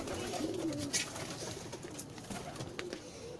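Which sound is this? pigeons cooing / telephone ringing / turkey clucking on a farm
pigeons cooing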